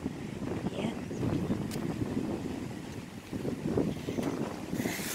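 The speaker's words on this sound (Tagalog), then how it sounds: "ang lakas po ng hangin." Strong wind gusting outdoors near a blossoming crabapple tree, blustery rumble buffeting the microphone in uneven surges, with a brief rustle near the end.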